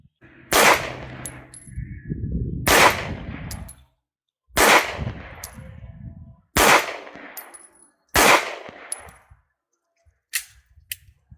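Five sharp gunshots ring out one at a time, roughly two seconds apart, each loud and close with a brief ringing tail, as a pistol fitted with an ADE RD3-012 red dot is test-fired; no speech is heard.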